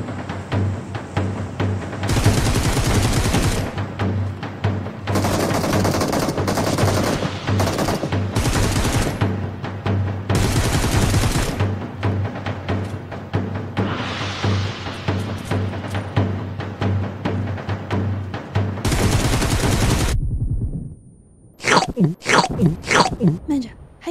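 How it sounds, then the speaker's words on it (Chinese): A battle royale video game fills with gunfire: long stretches of automatic bursts from sustained firefights, then several sharp, loud single shots near the end, all under continuous narration. "还有枪声"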